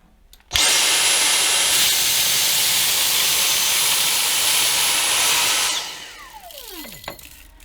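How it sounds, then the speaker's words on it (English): A Dyson V6 cordless vacuum cleaner switches on with a sudden loud, high-pitched whine and airy rush, runs steadily for about five seconds, then winds down with a falling tone. "I'm going to time it, and I'll normally give it a couple of goes each just to see how long it takes to empty the glass with the vacuum"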